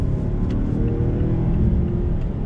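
A 2021 Mazda CX-9 Carbon Edition SUV with a turbocharged four-cylinder and front-wheel drive accelerating on throttle, a steady low engine drone and road rumble heard from inside the cabin, holding even and fairly loud throughout.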